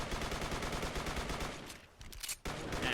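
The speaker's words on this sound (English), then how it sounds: "And now we get to shoot a giant target as fast as we possibly can." Rapid suppressed pistol fire from a SilencerCo Maxim 9 in Fallout 4, a dense string of muffled shots aimed at a large target, steady for about two seconds, then a brief pause and another close burst.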